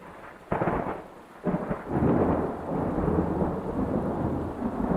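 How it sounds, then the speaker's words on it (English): A thunderstorm opens with sharp close thunder cracks, then heavy rain pours down in a dense, loud, steady rush with low rumbling underneath. "it started storming. It started raining so hard."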